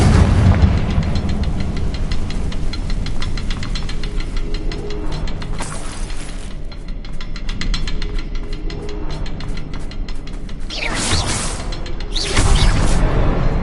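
In Hogwarts Legacy, a Confringo blasting spell explodes with a heavy, booming rumble over a constant low drone, with louder bursts of blast noise partway through and near the end.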